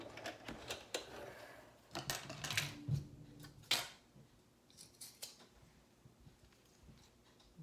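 Scissors cutting through makeup bag fabric, a series of close crisp snips and slicing crunches in an irregular rhythm, quiet overall with short pauses between cuts.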